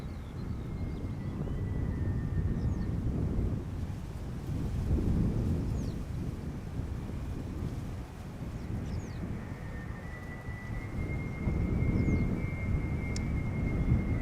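Distant rumble of a KLM Airbus A330 jet coming in to land at Schiphol, a low steady roar that stays fairly subdued, swelling slightly in a few waves under wind and faint background hiss, with no talk.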